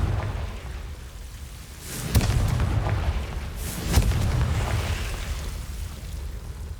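A Confringo spell explosion in the Hogwarts Legacy video game lands as two deep booms a couple of seconds apart, followed by a rumbling, crackling roar.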